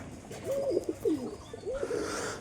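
Pigeons in a home loft coo a few times in soft, rolling phrases, close by and fairly quiet over a faint background hiss.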